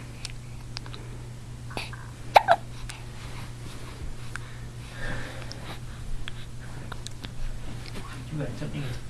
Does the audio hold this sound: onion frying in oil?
no